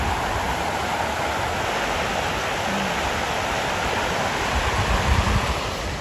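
Steady broadband rush of a river flowing beside a summer picnic spot, constant and fairly close with no clear voices.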